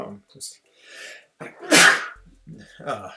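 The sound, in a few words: sneeze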